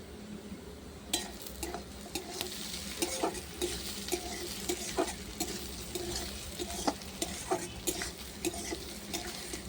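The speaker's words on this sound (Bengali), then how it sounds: "আলু আর পেঁয়াজটা লঙ্কাটা ভাজা হয়ে গেছে বন্ধুরা।" Potatoes, onions and chillies fry in a pan while being stirred, a soft continuous sizzle broken by repeated scraping taps of a spoon against the pan, close and quiet with no talking.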